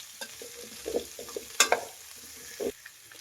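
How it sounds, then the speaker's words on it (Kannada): Drumsticks frying in oil for sambar, crackling sizzle with stirring scrapes and clatter, brief and close, no talk. "ನುಗ್ಗೆಕಾಯಿ ಎಣ್ಣೆಲಿ ಫ್ರೈ ಮಾಡೋದ್ರಿಂದ ತುಂಬಾ ರುಚಿಯಾಗಿರುತ್ತೆ ಸಾಂಬಾರು."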